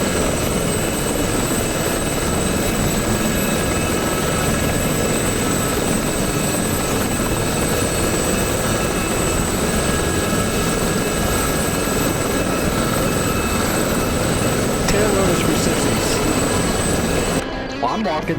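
A Gazelle helicopter flies close by, its loud continuous rotor and turbine roar filling the whole stretch steadily before cutting off abruptly at the end.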